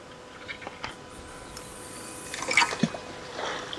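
Water drips, trickles and splashes on a fast-flowing river as a fishing cage feeder lands after a cast, with faint irregular wet sounds against a soft, steady river background.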